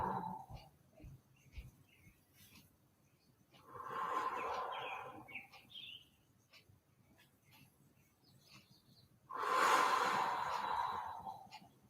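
Slow, deep breaths during a workout stretch, each long airy inhale or exhale rising and fading, close and fairly quiet, with a few seconds of near silence between them.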